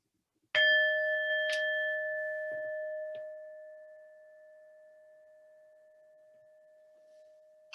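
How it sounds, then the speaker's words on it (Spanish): A single bell strikes clearly and rings out alone, its pure tone sustaining and slowly fading over several seconds in quiet surroundings. "Al oír el sonido de la campana"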